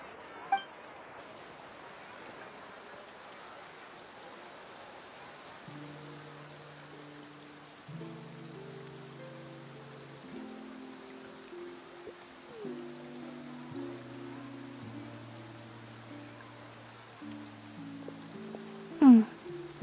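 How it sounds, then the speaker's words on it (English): Steady light rain hisses across a scene in Genshin Impact's Fontaine region, a soft continuous wash with scattered game music notes layered beneath and a brief clink near the end. "Looks like rain."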